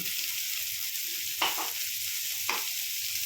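Onion and capsicum frying in a pan, a continuous close sizzle with two brief louder stirring scrapes, no voices.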